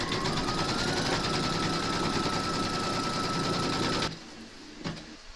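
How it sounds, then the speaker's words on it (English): An embroidery machine stitching a placement outline for an in-the-hoop penguin, a loud steady rapid needle chatter that runs continuously and then stops abruptly, leaving quiet room tone and a faint thump. "pop your hoop into your machine and stitch round number 1"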